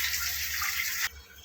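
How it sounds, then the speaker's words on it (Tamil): Water gushes steadily from a tap into an idli cooker in a home kitchen, a loud close hissing pour that stops abruptly just after one second, leaving quiet room tone. "இட்லி குக்கரில் தண்ணி ஊற்றியாச்சு."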